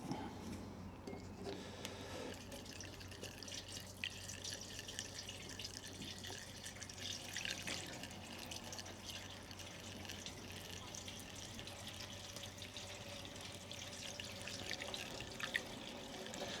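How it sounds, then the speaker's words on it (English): Diesel fuel trickles and splashes steadily from a container into the tank of a vintage Lister D stationary engine, a faint continuous pour with soft dripping throughout. "1 litre of fuel going in."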